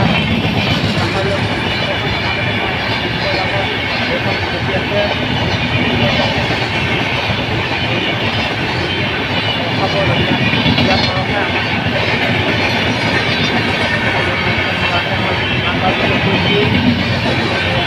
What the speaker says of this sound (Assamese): ট্ৰেইনখনো আপোনালোকে চাব, এইখন ট্ৰেইন আপোনাৰ